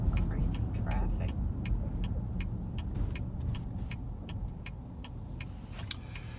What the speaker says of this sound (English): Crazy traffic.